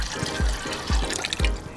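Tie-dye is poured from a container into a pot of water, making a close, gurgling splash with a few soft plops and trickles over about two seconds.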